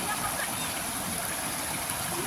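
Water flowing in a stream at Wong Lung Hang, a steady, fairly soft wash and rush of water that holds evenly throughout.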